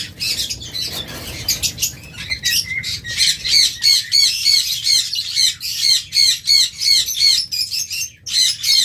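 Diamond doves in a colony set at a pet bird shop give repeated sharp, rhythmic squawking calls close by, the quick pulses running almost steadily over faint background noise.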